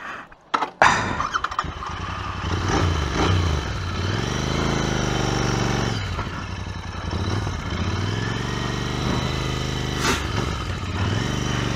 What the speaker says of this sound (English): Now I'm jumping straight on the Continental GT.